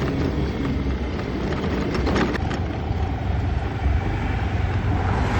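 A car drives along a road on the way to a shop, its engine a steady low rumble under continuous road and wind noise, with a brief brighter burst of passing sound midway and no talking.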